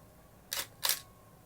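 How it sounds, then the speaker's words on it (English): A single-lens reflex camera fires its shutter at a slow 1/10 second speed, giving two crisp mechanical clicks a few tenths of a second apart, close and clear in a quiet small closet. "So if you can listen to the shutter, I'm going to take a picture."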